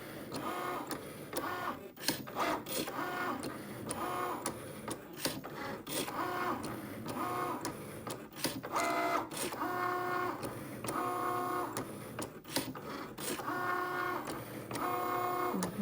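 A Cricut cutting machine works through vinyl for a front door, its small motors whirring and buzzing in short repeated bursts with clicks between passes, close and fairly quiet, with no voices.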